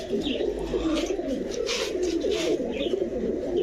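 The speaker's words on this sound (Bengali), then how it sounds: "মাশাআল্লাহ দেখেন দর্শক কি সুন্দর দেখা যায় কবুতরগুলা।" Pigeons, including snake-eyed fancy breeds, cooing continuously in low rolling calls close by, with a few faint chirps in the background.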